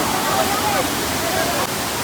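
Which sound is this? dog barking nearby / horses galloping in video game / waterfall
waterfall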